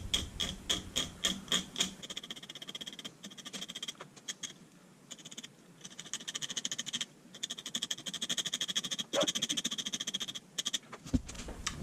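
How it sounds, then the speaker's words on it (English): A small X-Acto blade scrapes across a burned pyrography wood surface, giving quick close rasping strokes in steady bursts with brief pauses and a sharper scratch near the end. "we're just going to be very carefully scraping this away up to the line"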